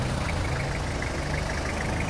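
A 1992 Toyota Hilux with a 3L engine idles, giving a steady, close, low diesel-like rumble with an even rhythmic churn and no talking.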